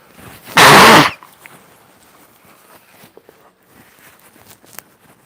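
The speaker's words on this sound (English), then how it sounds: "Let me blow my nose." One loud, brief nose blow up close, then faint rustling and small scattered sounds.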